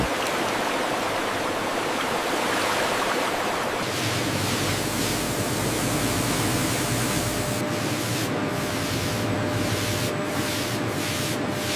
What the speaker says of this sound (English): High-pressure water jets meticulously clean each rind, ensuring pristine quality.